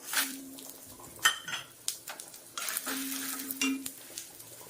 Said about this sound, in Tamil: காஞ்ச மிளகாய், மல்லி, சீரகம், மிளகு இதெல்லாம் அப்படியே போட்டு வறுத்துக்குவோம்